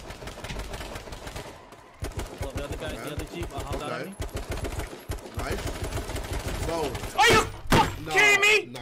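Rapid bursts of video game gunfire crackle amid excited, overlapping talk, growing loudest in sharp clusters toward the end.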